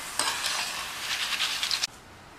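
Banana or potato chips frying in hot oil, a bright steady sizzle with bubbling crackle that runs evenly and then cuts off abruptly.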